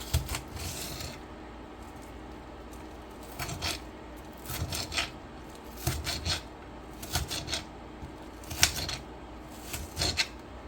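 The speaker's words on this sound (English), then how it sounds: "dice these onions into smaller pieces" Irregular bursts of sharp knife taps and scraping against a cutting board as onions are diced, coming in quick clusters separated by short pauses, close and fairly quiet.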